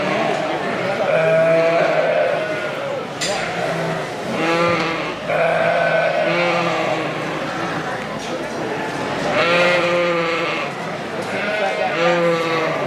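Sheep bleating repeatedly in a livestock show ring, several loud wavering bleats spaced a few seconds apart over a steady crowd murmur and indistinct voices.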